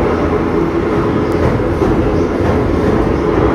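A Coimbatore to Chennai sleeper passenger train runs on the tracks near the Kaveri river between Salem and Erode, a loud, continuous low rumble of wheels and carriages heard from on board.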